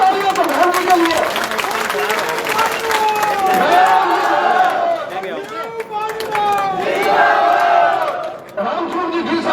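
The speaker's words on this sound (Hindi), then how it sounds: "जोरदार तालियां प्रधान जी के लिए" A crowd at a political gathering claps steadily for the panchayat samiti chairman, with a loud voice calling over the sustained applause and murmuring chatter.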